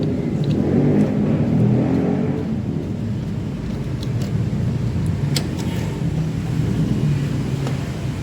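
Yamaha Vega ZR motorcycle engine running with a slipping clutch, a steady low rumbling drone with mild surges in revs, loud and continuous throughout without voices.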